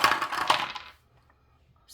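Two dice are rolled onto a hard surface, a quick rattling clatter for about a second, near and clear, then stillness.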